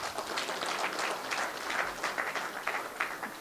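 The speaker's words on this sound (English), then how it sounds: "A round of applause again for him." A crowd claps steadily in a dense, sustained round of applause, moderately loud and without pauses.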